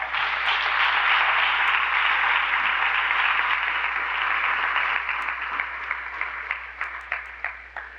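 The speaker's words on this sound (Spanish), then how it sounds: "Les damos un aplauso de bienvenida." A church congregation gives a welcoming round of applause, a dense and steady wash of clapping that slowly thins into a few scattered, separate claps at the end.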